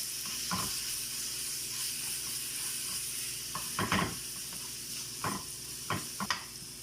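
Garlic and coriander frying in hot oil, with a steady soft sizzle throughout and several sharper crackling spurts as the pan is stirred, close and moderately quiet.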